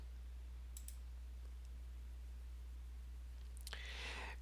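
Faint, quiet computer mouse clicks sound in short pairs against a low steady hum, one near the start and a slightly louder burst near the end.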